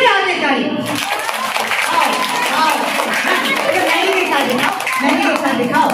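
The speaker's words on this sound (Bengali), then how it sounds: "সবাই মিলে জোরে হাতে তালি।" Schoolchildren at a magic show clap together in a loud, sustained burst of rapid applause, with an adult voice and children's chatter mixed in over the clapping.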